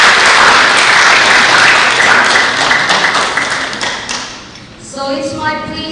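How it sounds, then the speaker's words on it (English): Audience applause at a youth public speaking competition, loud dense clapping that gradually thins and fades, followed by a brief tonal sound near the end. "One more time, clap for him."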